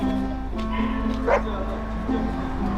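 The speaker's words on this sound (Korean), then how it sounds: "강아지 소리야?" A dog at an indoor dog swimming pool in Seocho, Gangnam gives a short yip and bark around the middle, set against a steady low hum and faint background voices.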